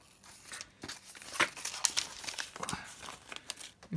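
Coffee and tea dyed paper is handled close up, giving soft crinkling and rustling with a few sharper crackles scattered over several seconds, fairly quiet.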